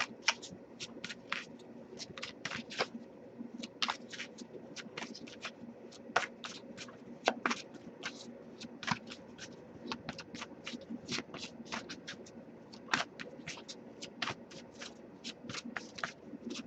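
Rapid papery riffling of a tarot deck being shuffled, short bursts repeating steadily over a soft background hum, close and fairly quiet.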